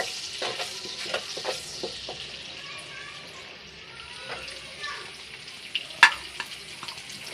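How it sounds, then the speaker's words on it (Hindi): Cumin seeds frying in a pan, a busy crackle and hiss with scraping stirs and spoon taps, one sharp clink near the end. "जीरे को ज़रा फ्राई करते हैं।"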